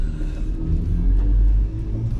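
A hybrid logging truck accelerating, giving a steady, loud, low engine rumble that swells briefly in the middle before settling, with no talking over it.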